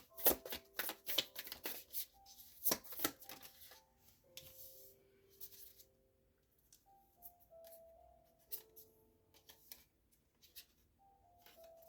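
Tarot cards being shuffled and laid out one at a time: a quick burst of riffling and snapping up front, then softer, sparse slides and taps as single cards are placed nearby.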